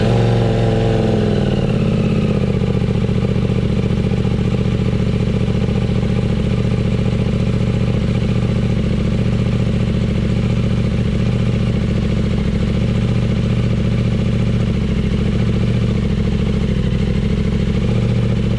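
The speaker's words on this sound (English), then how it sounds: "here's my 2020 Duke 890R with SC Project slip-on. I'm gonna do a cold start of it" A 2020 KTM Duke 890R fitted with an SC Project slip-on exhaust fires up from cold, its engine note dropping after the first seconds into a loud, steady, close-up idle that runs on alone.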